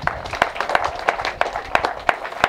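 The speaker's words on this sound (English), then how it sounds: "Clap for them." An audience at a school tablet launch at Butere High claps in an uneven rhythm, with several sharp, loud individual claps standing out over a softer bed of hands.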